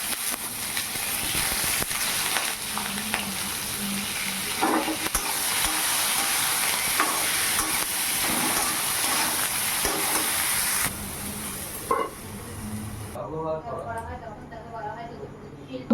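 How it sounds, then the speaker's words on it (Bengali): Eggplant sizzles in hot oil with turmeric and salt in a wok, a steady loud frying hiss broken by occasional stirring scrapes, with someone talking over it before the sizzle eases and fades. "এখন এই যে বেগুনটা দিয়ে দিলাম, একটু লবণ দিয়ে ভালো করে ভাজা ভাজা করে নেব"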